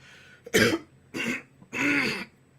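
Three rough throat-clearing bursts close to the mic, each a short raspy rumble separated by brief pauses, with no talking.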